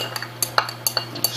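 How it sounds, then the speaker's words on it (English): Metal stirrer clinking against a glass container while mixing a precipitation reaction solution in a lab, a run of light, bright taps spaced irregularly over a steady low hum. "it says stir with the stirrer"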